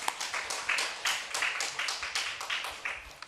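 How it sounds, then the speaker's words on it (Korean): A church congregation at a Korean revival service claps in a steady, brisk rhythm, a dozen or so crisp handclaps evenly spaced at moderate distance, with no speech over them. "하나님께 영광의 박수 돌리겠습니다."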